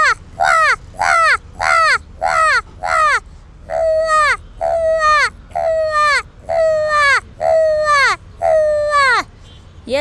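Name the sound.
person imitating an old crow's caw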